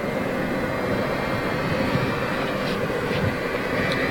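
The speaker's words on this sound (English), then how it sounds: "I will zoom in on the name of the 747 that's coming out" Boeing 747 at Manchester International Airport, a steady broad jet engine roar heard from a distance outdoors, constant in level throughout.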